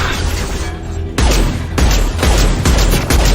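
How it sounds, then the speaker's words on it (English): Heavy weapon fire in Mass Effect 2, an impact shot followed by several loud, booming reports spaced roughly half a second apart, close and punchy with ringing tails. "Firing an impact shot."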